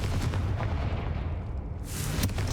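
Confringo fire spell blasts in the Hogwarts Legacy video game, a dense run of booming, crackling explosive impacts with a bright burst near the end, loud and continuous throughout.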